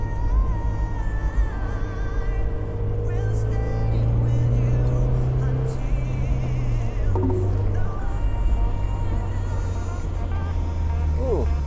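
A Mazda Miata drives around Alastaro Circuit in Finland, its engine a steady buzzing drone heard from inside that rises and falls in pitch as it speeds up and shifts, with a faint voice now and then.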